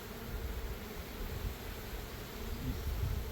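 Honey bees swarm around an open hive, their dense, continuous buzzing hum steady and close throughout, with a faint low rustle underneath.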